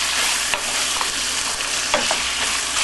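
Meats for four-meat fried rice frying in a pot, a steady loud sizzle with occasional stirring scrapes and pops throughout, no voices.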